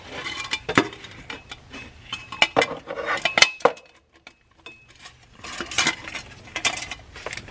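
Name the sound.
metal hose clamps being handled on a truck intercooler pipe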